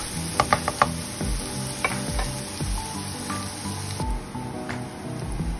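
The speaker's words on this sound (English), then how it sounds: "saute the chopped garlic into low to medium heated pan. Continue mixing the chopped garlic till it turns to light brown." Chopped garlic sautéing over low to medium heat, a continuous close sizzle broken by repeated scraping and clinking strokes of a utensil stirring against the pan, with no voices.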